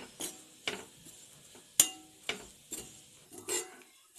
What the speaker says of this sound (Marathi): आधी मी खोबरं सुखं खोबरं घेतलं होतं ते भाजून घेते